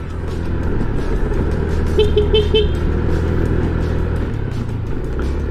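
A car horn gives three quick toots over the steady rumble of a nearby vehicle engine and road noise on a steep mountain road in Laurel, Batangas.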